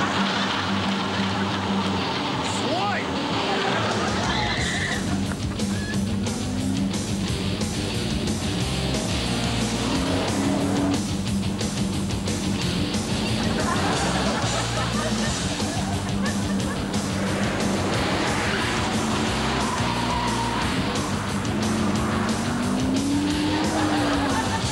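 A race car fishtails with loud, repeated tire squeals and a roaring engine that rises and falls in pitch, close and continuous, with occasional voices mixed under the noise.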